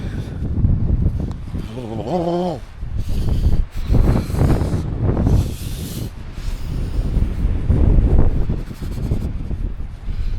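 Strong, cold wind roars across the slopes of Mount Everest in a continuous loud, gusting rush buffeting the microphone, with brief muffled vocal sounds partway through.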